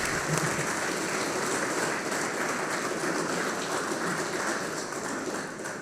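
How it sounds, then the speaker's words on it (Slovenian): Audience at a Slovenian political debate on Europe bursting into applause, a dense, loud, continuous roar of clapping that slowly eases toward the end. "Aplavz."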